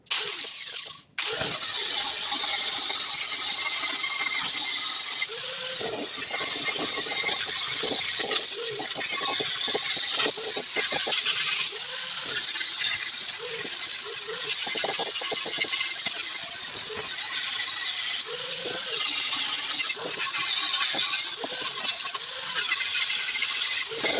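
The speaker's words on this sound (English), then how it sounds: "So let's get to grinding them welds down." An angle grinder works down welds on the body of a 1965 Ford Mustang, giving a continuous harsh, high whine with brief pauses and shifts in pitch as the disc bites and lifts from the metal.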